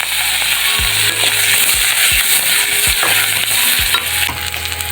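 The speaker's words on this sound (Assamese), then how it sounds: "এতিয়া মাছ ভজা গৰম তেলতে পাঁচফোৰণ আৰু কেঁচা জলকীয়া দি দিলোঁ।" Onion fries in hot mustard oil left from frying fish, with panch phoron and green chili, giving a loud, continuous sizzle. Several sharp spatula scrapes against the pan come in a loose rhythm, and there is no speech.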